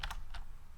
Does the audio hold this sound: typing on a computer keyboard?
yes